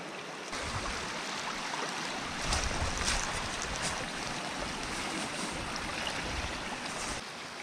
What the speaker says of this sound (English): This stream is actually cutting across the path